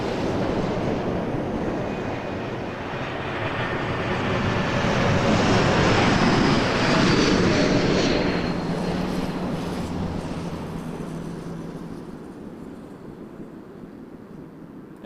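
A McDonnell Douglas MD-11 jet roars past at Toronto Pearson, a loud broadband engine rush that swells to a peak midway and slowly fades, with no voices over it.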